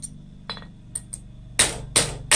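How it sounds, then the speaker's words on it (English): A hammer strikes metal while a sculpture is forged, a few sharp ringing blows with gaps between, the last strikes louder and close, over a low steady background hum. "just by hammering on it here"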